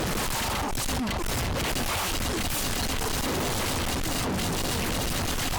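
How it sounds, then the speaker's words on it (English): Rapid volleys of light projectile fire from a defense tower in the video game Shrooms! Tower Defence, a dense continuous crackle of small shots with no pause and no talk. "Rapidly fires weak projectiles."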